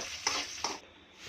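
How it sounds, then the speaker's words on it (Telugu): Onions sizzle in a hot pan for semiya upma while a spatula stirs them, scraping the pan twice in quick strokes over a soft, steady frying hiss. "ఆనియన్ వేసుకొని మంచిగా మిక్స్ చేయాలి. ఇలా మిక్స్ చేయాలి. ఆనియన్ మంచిగా బ్రౌన్ కలర్ వచ్చేదాకా."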